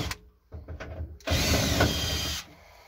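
A power screwdriver whirs briefly, then runs in one sustained loud burst while backing screws out of the top cover of a gas water heater inside a caravan, preceded by a few soft handling knocks.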